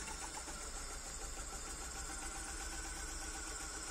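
A BMW E36 engine idles steadily nearby with one spark plug unplugged, a constant low rumble with a faint mechanical whine and no change in pace.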